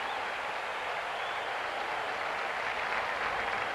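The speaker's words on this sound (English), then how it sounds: "He is getting a great hand from this crowd." A stadium crowd at a 1981 Miami vs Florida college football game applauds an injured player with a broad, steady wash of distant clapping and cheering that holds throughout.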